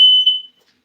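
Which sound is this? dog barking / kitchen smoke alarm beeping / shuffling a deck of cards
kitchen smoke alarm beeping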